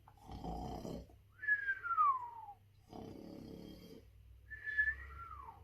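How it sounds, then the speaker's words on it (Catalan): A sleeping man snores in slow cycles, each rough low inhale followed by a whistling, falling exhale, twice over, alone and fairly quiet. "està roncant."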